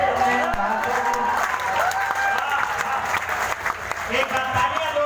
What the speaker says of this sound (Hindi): एक तालियां जोरदार गजेंद्र सिंह प्रियांशु।